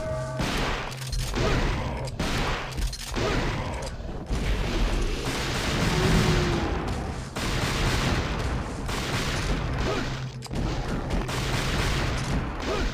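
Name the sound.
shotgun firing in video game Devil May Cry 2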